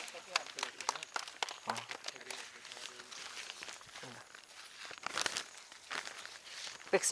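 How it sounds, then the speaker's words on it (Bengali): Applause for a prize winner at a medical college quiz competition in Santiniketan, a scattered, uneven patter of clapping from the audience, moderately close, with a voice speaking over it. "আবার জোরে হাততালি হয়ে যাক"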